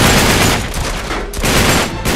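Rapid automatic gunfire in the video game Uncharted 3: Drake's Deception, a dense, loud, continuous rattle of shots with a brief dip in the middle.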